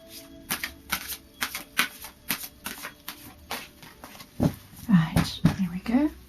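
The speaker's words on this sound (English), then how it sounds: "So I'll just do a final shuffle." Psychic Tarot cards are shuffled by hand in a rapid run of crisp riffling flicks, then a few softer slaps, with a voice briefly murmuring near the end.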